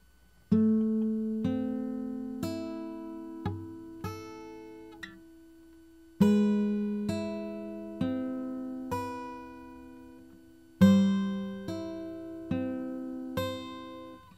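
A slow guitar riff, single plucked notes and low bass strings, each left to ring and decay, spaced evenly over about fourteen seconds, unaccompanied.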